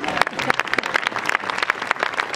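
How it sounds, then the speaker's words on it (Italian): Applause from an audience at the close of an evening event, steady dense clapping with distinct individual claps, close and lively throughout. "Continuiamo con gli applausi"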